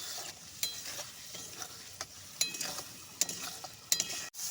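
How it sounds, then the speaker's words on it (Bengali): Ridge gourd with poppy seed paste is stirred in a pan on a gas stove: a spatula scrapes and knocks against the pan at irregular intervals over a soft, steady sizzle, close, with no speech. "পোস্ত বাটাটাকে দিয়ে কিছুক্ষণের মতো কষিয়ে নিয়েছি"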